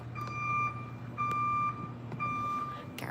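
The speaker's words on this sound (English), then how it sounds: "Garbage truck." Garbage truck reversing alarm sounding three steady, evenly spaced beeps, moderately loud over a low engine rumble outdoors, with no talk.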